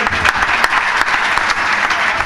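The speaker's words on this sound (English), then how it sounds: "Ladies and gentlemen, loud round of applause" Loud, dense applause from a crowd greets a harmonium and tabla duo at a live music performance, a steady wash of many hands clapping with no talk over it.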